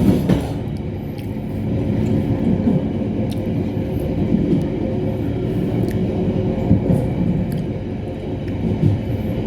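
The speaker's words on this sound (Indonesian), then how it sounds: "Dan kereta api Taksaka sudah meninggalkan stasiun Yogyakarta" The Taksaka train pulls out of Yogyakarta station, heard from inside a carriage as a steady loud rumble with faint clatter and occasional clicks throughout.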